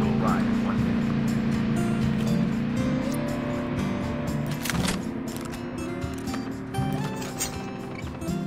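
An ATV engine in the Call of Duty Mobile battle royale drones steadily and fairly loud throughout, its pitch wavering as the vehicle drives around, with game effects and a voice talking over it.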